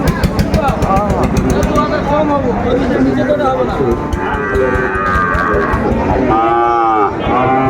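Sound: Sahiwal bulls mooing at a cattle market

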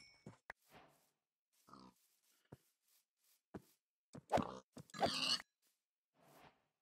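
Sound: pig grunting in the video game Minecraft

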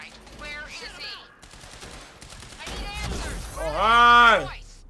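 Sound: gunfire in the video game Quantum Break

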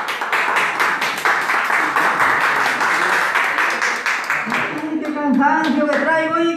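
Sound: audience applause

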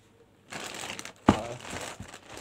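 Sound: unboxing a Daraz parcel, packaging crinkling

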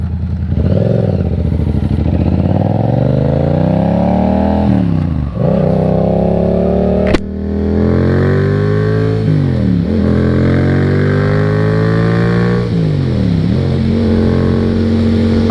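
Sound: Yamaha FZ07 motorcycle engine while riding

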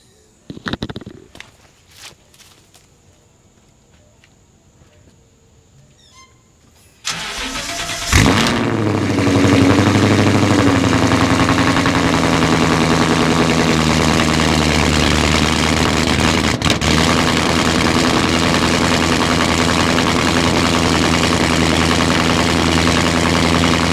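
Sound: cold start of a 2014 Ford Mustang 5.0 engine

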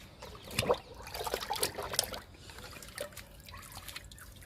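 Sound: liquid fertilizer being poured onto a pomegranate plant

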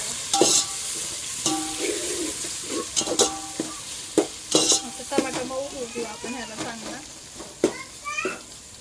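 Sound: tomato added to frying onions and stirred

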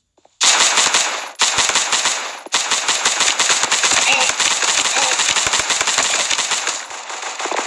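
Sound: Destroyer gun firing in the video game Guns of Boom

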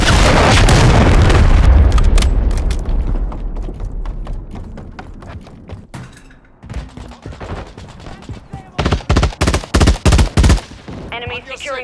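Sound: cruise missile explosions and gunfire in video game Call of Duty MW3

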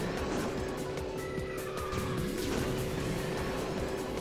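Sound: kart double drift in video game KartRider Rush Plus

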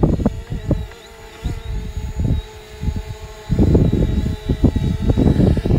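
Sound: Hubsan Zino drone flying up and away

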